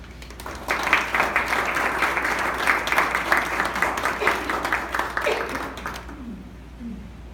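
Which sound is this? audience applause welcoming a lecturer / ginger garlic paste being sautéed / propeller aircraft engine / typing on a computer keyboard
audience applause welcoming a lecturer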